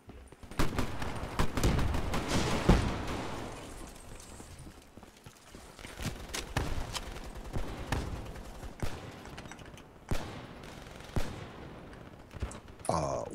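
Sniper rifle shots from the Black Ops 3 shooter game ring out as sharp, scattered cracks amid other gunfire and game noise, spread across the stretch at moderate volume.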